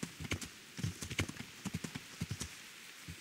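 Horse hooves clip-clop in steady uneven beats across a dirt path in the medieval game Kingdom Come: Deliverance, the footfalls close and fairly quiet with no talk over them.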